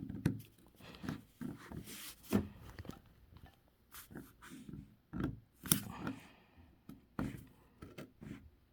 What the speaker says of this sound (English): We're going to cut through both layers of the fabric.